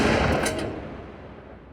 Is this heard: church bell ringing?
no